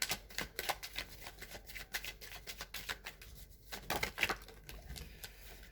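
Tarot cards shuffled and drawn by hand, a quiet run of crisp riffling and flicking bursts in an irregular rhythm, with no voices.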